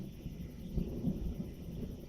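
A low, continuous thunderstorm rumble rolls through a scene in Cabernet, with a couple of heavier swells of thunder over a steady dark bed of rain-like hiss, moderately quiet and without speech.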